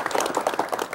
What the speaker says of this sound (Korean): 여러분 다시 한번 박수를 부탁드리겠습니다.